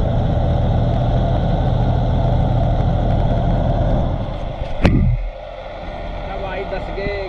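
A tractor pulling a rotavator sits bogged in wet, sandy mud after rain, its engine running with a loud, heavy low drone that abruptly cuts down near the end, leaving a quieter idle.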